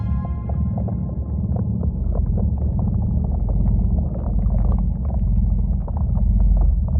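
A low, rumbling drone meant as the sound of the Sun's rippling surface, with dense bass pulses and a steady, throbbing rhythm like a heartbeat, and no voices over it.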